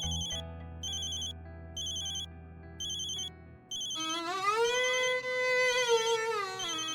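A phone ringtone chimes in repeated bursts, loud and close, then gives way to a warbling, sliding electronic melody.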